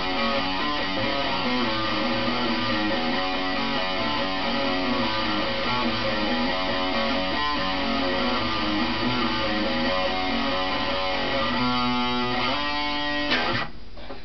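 An electric guitar plays the intro riff alone, with a fast, driving run of picked distorted notes that continues steadily and then stops abruptly near the end.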